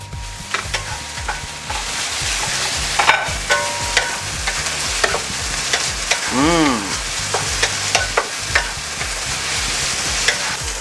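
Rice stir-fried in a hot pan with kaffir lime leaves for fermented-fish fried rice: steady loud sizzling with rhythmic scraping strokes of the spatula, over background music.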